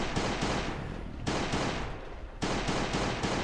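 Glock pistol gunfire in the survival game Last Day on Earth, loud sustained bursts of rapid shots in three runs with brief gaps between them.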